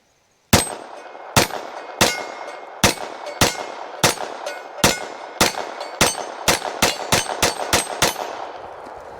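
An FN 502 Tactical pistol firing Aguila ammunition at a 10-yard range target, about fifteen loud, sharp shots ringing out, spaced evenly at first and then coming faster toward the end, each with a metallic clang.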